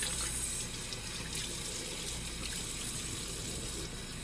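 A bathroom tap runs steadily while someone washes their face, a continuous close rush of water with no talking.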